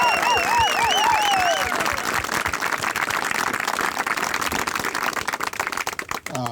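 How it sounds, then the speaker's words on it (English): A crowd at an outdoor groundbreaking ceremony for the Humboldt Bay Trail gives a loud round of applause for an honoree, the dense clapping continuing for several seconds before thinning out toward the end. "I'd like to say a big round of applause for Hank Seaman."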